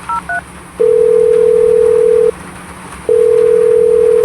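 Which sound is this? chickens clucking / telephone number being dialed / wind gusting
telephone number being dialed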